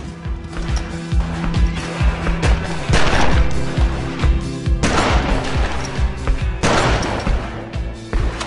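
Gunfire at the shooting range in GTA Vice City: loud, rapid shots in repeated bursts over a dense game soundscape, with heavier volleys clustered near the middle and the end.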